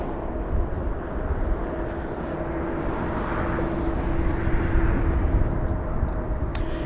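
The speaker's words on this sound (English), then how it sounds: "That one flying to Tokyo Narita. A 777 freighter, that one." A Boeing 777 freighter bound for Tokyo Narita passes at Los Angeles International Airport, a steady, fairly loud jet roar with a faint tonal whine that swells slightly toward the end.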